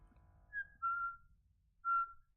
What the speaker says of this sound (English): It whistled at me.